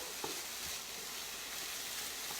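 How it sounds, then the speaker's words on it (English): Onions and bacon sizzle in a pan with a soft, steady crackling hiss, close and continuous, broken by a couple of faint stirring clicks. "the onions are nice and soft, the bacon has browned a little bit but not too much"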